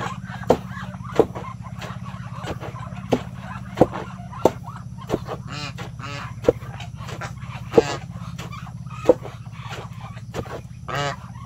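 Repeated honking calls from free-range farm ducks and geese ring out over a steady low hum, irregular bursts spread across the whole stretch, moderately close.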